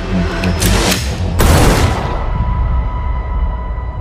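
Gunshots ring out, with a few sharp, loud cracks in quick succession. A heavy boom follows and fades into a lingering, ringing decay.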